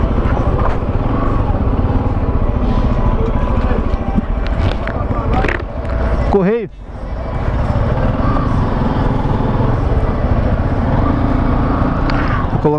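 A Dafra NH 190cc motorcycle engine runs close to the microphone with a steady droning rumble and wind buffeting, a passing vehicle sweeping by midway, while someone talks over it.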